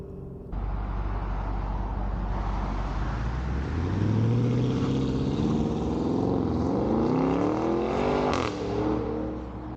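A Porsche Cayenne Turbo GT accelerates hard, its engine note climbing through a long rising sweep with audible gear shifts. It is loud and close, with no talk.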